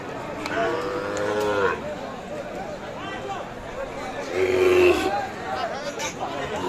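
Sahiwal bull calves at a busy cattle market let out two moos, one early and one louder later, amid the chatter and voices of the crowd.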